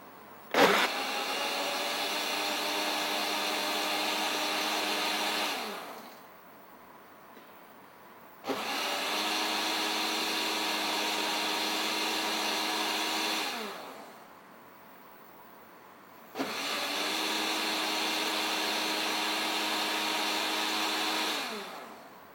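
A kitchen blender whirs in three separate bursts of about six seconds each, pausing between runs, while blending watermelon and beetroot into juice; each run starts abruptly with a high, steady motor whine, then cuts off.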